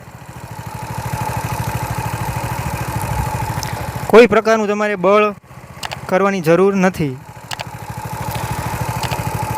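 A bike-based mini tractor (saneda) fitted with a hydraulic system idles at slow engine speed, giving a steady, close, rhythmic putter throughout, while someone speaks briefly over it in the middle.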